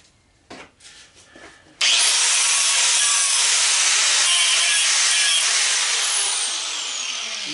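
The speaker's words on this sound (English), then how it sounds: "try to hit that with a grinder on both sides and make sure it's all fiber." An angle grinder bites into the fiber insulation of an old golf cart charger being scrapped for copper. After a few light handling knocks, a loud, steady, close-up grinding roar starts and holds to the end without any talk.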